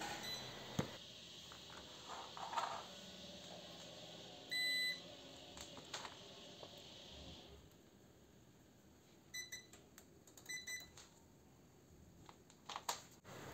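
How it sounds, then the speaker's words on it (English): A multimeter set to continuity beeps while probing the power cord of a convector heater: one clear sustained beep mid-clip among quiet clicks and handling noise in a hushed room. "I've set the multimeter on continuity and I will go ahead and check if the power cord is"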